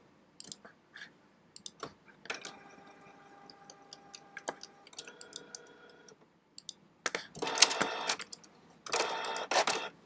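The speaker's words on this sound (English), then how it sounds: "You should hear the printer here." A desktop printer runs off a packing slip for a thrift store resale order, with scattered clicks before a steady mechanical whirring print pass, then louder bursts of feed and rattle near the end, close and without talk.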